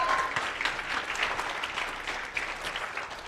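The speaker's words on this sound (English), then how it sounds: "I just want to give a round of applause to Julie and Jesse" Audience applause for the organisers at the Make It Awkward Summit in Edmonton, Alberta: a steady wash of many hands clapping together, moderately loud and sustained throughout without talk.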